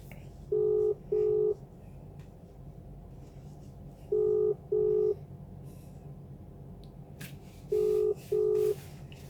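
A phone rings out during a prank call, with three double-pulse ringback tones evenly spaced a few seconds apart over faint line hiss and no speech.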